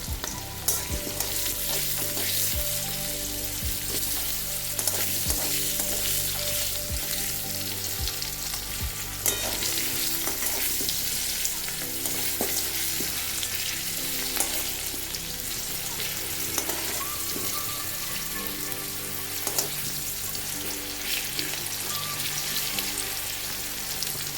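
Bottle gourd and potato for an egg curry frying in oil, a loud continuous sizzle close by with periodic scraping stirs of a spatula against the pan, no talking.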